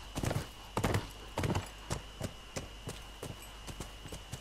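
Horse hooves clip-clop in a steady walking rhythm while riding in the video game The Last of Us Remastered, the clear, fairly close strikes falling in pairs over a low game-ambience hum.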